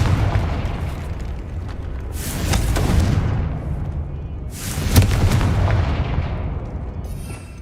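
Two booming fire blasts from the Confringo explosive spell in Hogwarts Legacy, each a loud roaring burst that rumbles and trails off, spaced a few seconds apart over a low background drone.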